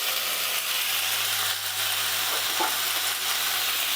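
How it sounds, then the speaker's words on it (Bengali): Vegetables and drumsticks in a vegetarian curry sizzle steadily in a pan, with the soft scrape of stirring over a constant, close frying hiss. "ঢাকনাটা খুলে নেওয়ার পর সবজিগুলো আবারও ভালো করে এইভাবে নেড়ে দিচ্ছি"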